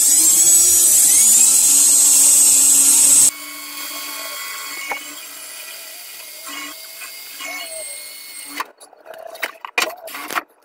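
A power drill drives Tapcon screws into concrete, opening with a loud, steady high-pitched whine for about three seconds, followed by quieter tool running and handling noises.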